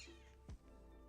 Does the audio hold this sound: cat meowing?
yes